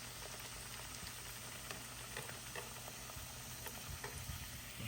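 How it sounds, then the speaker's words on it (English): Steady sizzling of food frying in hot ghee, a constant hiss dotted with small pops and crackles, no talking. "I am frying"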